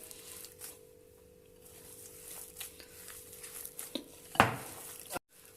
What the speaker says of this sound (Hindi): अब इसको मैं मिक्स करती हूँ, अच्छी तरह से मिक्स करूँगी।